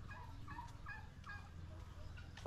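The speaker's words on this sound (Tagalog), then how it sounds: "Yan, may mga pabo sila." Several turkeys gobbling in repeated warbling bursts on a farm in Iloilo, Philippines, moderately distant, over a steady outdoor background rumble.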